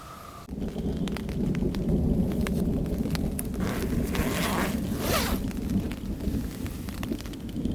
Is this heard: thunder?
yes